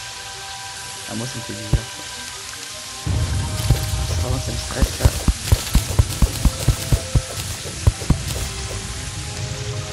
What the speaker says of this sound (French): on est en grotte et on entend la pluie